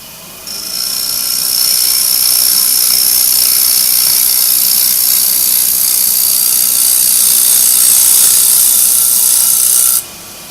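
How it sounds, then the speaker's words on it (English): A wood lathe gouge takes fine, wispy shavings from a wooden bowl, giving a steady high-pitched hiss and whir that holds evenly for about nine seconds, close up and alone, then stops abruptly. "it takes off these little tiny wispy shavings. So I know I'm cutting, but I'm cutting really fine."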